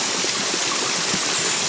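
Hot spring water rushing steadily at an abandoned resort, a dense, continuous, loud flowing hiss close by with no breaks and no talk.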